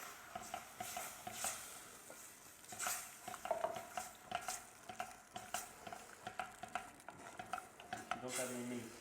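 Milk being stirred into a flour and bacon roux in a pan for a leek and bacon cheese bake, with steady scraping and tapping of a utensil against the pan and faint sizzling underneath, fairly quiet and close.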